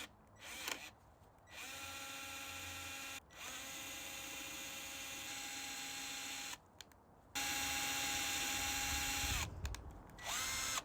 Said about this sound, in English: I just use a drill bit to slightly widen the holes to accommodate the screw